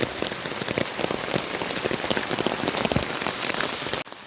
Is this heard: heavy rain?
yes